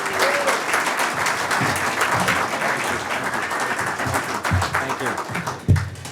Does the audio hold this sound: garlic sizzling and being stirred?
no